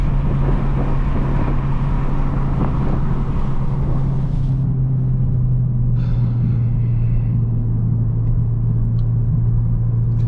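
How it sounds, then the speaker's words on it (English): A turbocharged 300 hp VW GTI engine drones steadily with a loud low rumble and a whooshing intake tone, easing off partway through, with no voices. "Turbo noises on this is crazy. You guys can really hear the intake."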